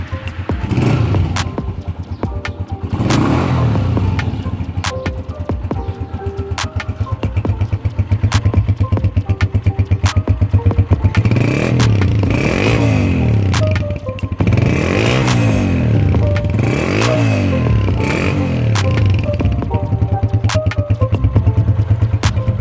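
Honda 217 motorcycle in Pakistan, three years old, its engine idling with a steady low thumping putter, close and loud, rising in several revs with throttle blips, plus occasional clicks and clatter.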